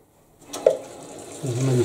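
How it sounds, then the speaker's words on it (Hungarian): Water rushes through pipes after the valves on a Baxi Main 24 Fi gas boiler are reopened, a steady hiss that builds and then holds, with a brief clunk near the start and no talking. "Akkor most visszakinyitom a csapokat"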